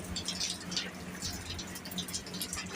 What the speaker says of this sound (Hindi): ये देखिए ऐसा पानी आ रहा है, अभी भी चल रहा है